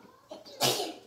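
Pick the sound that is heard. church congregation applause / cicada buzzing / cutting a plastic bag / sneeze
sneeze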